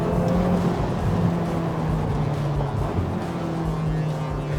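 Ferrari Roma on Mumbai roads: a steady engine drone with a low, sustained hum as the car pulls away and cruises, continuous and fairly close, with no talk over it.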